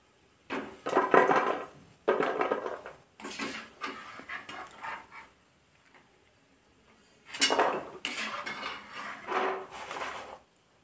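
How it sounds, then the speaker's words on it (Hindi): Close, crisp crunching of fried cashew-shaped mathri snacks being bitten and chewed, in several bursts separated by short quiet pauses. "अभी मैं आपको इसकी आवाज़ सुनवाऊँगी ये कितने क्रंची हैं"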